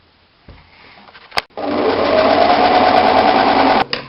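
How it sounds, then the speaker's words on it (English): A sewing machine runs a steady, continuous stitch along the long edge of a rectangle of fabric folded right sides together, loud and close. It follows a few soft handling clicks and keeps going for over two seconds before stopping abruptly. "fold it in half, right sides together, and then just sew along the long edge"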